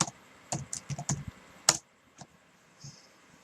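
Quick bursts of keyboard typing as a web address is entered, several clustered keystrokes then a few scattered taps, close and clear with no talking.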